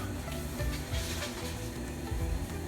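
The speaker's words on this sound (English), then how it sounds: "sear my burritos" Vegan egg burritos sear in a hot pan, giving a steady, close sizzle with a few low knocks and scrapes as they settle against the surface.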